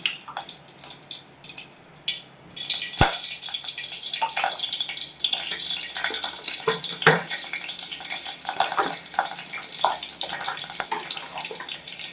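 Oil poured into a heated pan while cooking a restaurant-style egg drop curry makes a continuous close, splashy, running hiss, with a sharp clank early on and occasional knocks throughout.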